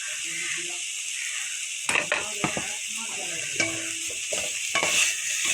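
Potato curry with egg stirred and fried in a pan, with a steady sizzle beneath irregular scraping and clattering spoon strokes close by, and no talking.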